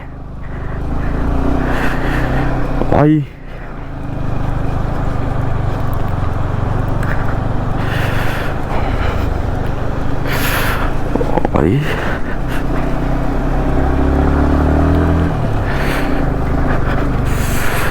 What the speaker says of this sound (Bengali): এক গিয়ার ছাড়া গাড়ি উঠবেই না এখান থেকে